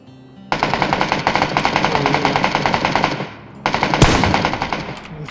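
Rapid automatic gunfire in the battle royale game PUBG, a loud sustained burst of close shots, a brief pause, then another burst with a sharp impact.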